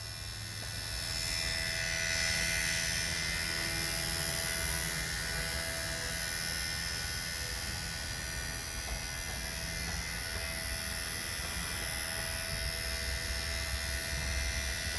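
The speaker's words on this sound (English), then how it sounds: "I'm just gently nudging the helicopter in a suitable direction." A small XK K110 Blast six-channel RC helicopter flies indoors, its rotor whine and motor hum steady and close throughout, with no talking.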